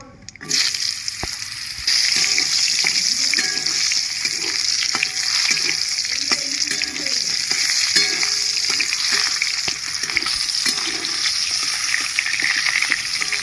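Food sizzles and crackles steadily in hot oil in a wok, with faint scraping of stirring underneath; the frying starts abruptly after a brief quiet moment.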